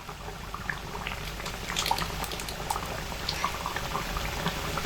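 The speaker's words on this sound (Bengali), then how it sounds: "ডিম দিয়ে চার থেকে পাঁচ মিনিট সময় ধরে এটাকে আমি ফুটিয়ে নিচ্ছি মিডিয়াম আঁচে" Egg curry bubbles on medium heat in a pot, a dense, steady crackle of small popping bubbles heard up close and fairly loud, without pause from start to end.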